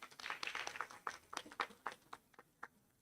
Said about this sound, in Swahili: Aya, tuwapigie makofi